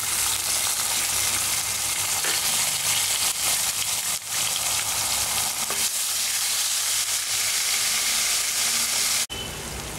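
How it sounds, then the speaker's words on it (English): Ginger garlic paste sizzles and spatters in hot oil with curry leaves for a brinjal dish, a loud, steady frying hiss throughout, with a brief clatter near the end. "And now add ginger garlic paste."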